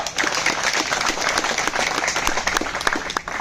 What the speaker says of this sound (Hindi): बहुत कमजोर ताली है